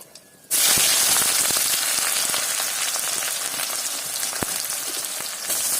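Spice paste for coconut chicken hitting hot oil in a pan: a sudden loud, dense sizzle that bursts in after a quiet moment and hisses on steadily, with a few sharp pops.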